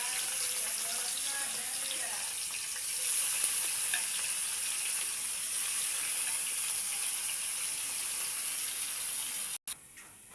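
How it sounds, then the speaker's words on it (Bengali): Onions and pistachios fry in oil in a wok, giving a steady, close hiss and crackle that runs unbroken until a brief cutoff near the end. "কড়াতে তেল দিয়ে দিচ্ছি, পেঁয়াজ পেস্তাগুলো ভেজে নেব।"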